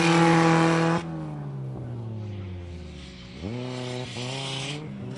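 A rallycross racing buggy with a two-wheel drive manual drivetrain roars loudly nearby, its engine note dropping as it lifts off, then climbing again through rising revs as it accelerates.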